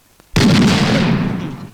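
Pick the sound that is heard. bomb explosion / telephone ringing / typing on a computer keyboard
bomb explosion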